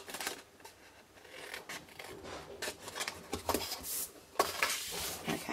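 Scissors snipping through cardstock while cutting out a Stampin' Up! tent box, a series of short crisp rasping cuts and rustles of card, close and fairly quiet, with no talking.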